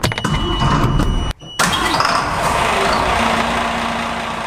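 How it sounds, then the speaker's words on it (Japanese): A fishing boat engine cranks and fires up, a brief starter whir, a momentary drop, then the motor catching and settling into a steady, loud, rumbling idle close by. "エンジン始動。"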